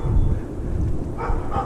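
A dog gives a few quick barks at moderate distance, short and clustered, with some background noise around them.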